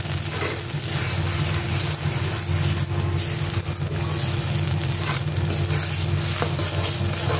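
Loud, steady sizzle of food frying in a pan as it is stirred, with black cumin seeds tempered in the oil and the liquid cooking off, continuous and close with no talk.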